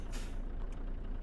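A truck's air brake gives a short, loud hiss as the handbrake is set in a trucking video game, over a steady low engine rumble in the cab.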